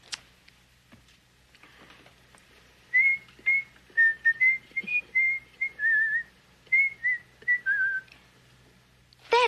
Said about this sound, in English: It was somebody whistling it.